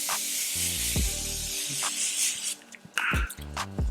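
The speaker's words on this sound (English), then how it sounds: "I'm going to set with my Morphe Continuous Mist" Morphe Continuous Mist setting spray sprayed onto a face as a long, steady, close hiss of fine mist, followed by a few shorter bursts, with soft handling noises in between.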